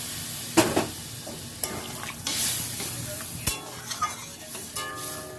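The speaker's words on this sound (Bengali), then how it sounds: "এটা কিন্তু গরম জল করে রেখেছিলাম এটাই আমি অ্যাড করছি" Hot water goes into a pan of papaya curry, with a brief hissing rush among clanks and scrapes of stirring against the pan.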